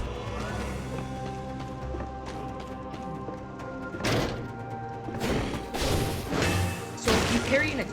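Repeated heavy clashes and thuds of a bloodthirsty shield parrying enemy attacks in the Dead Cells video game, several sharp impacts landing between 4 and 8 seconds over steady game music.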